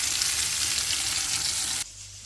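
Silver carp fries in oil in a pan, giving a loud, steady broadband sizzle that cuts off abruptly near the end, leaving a quieter low hum.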